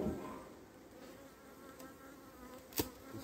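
A honeybee colony buzzes in a dense, steady drone as a beekeeper shakes the hive frames, with a sharp knock near the end breaking through the close, continuous hum.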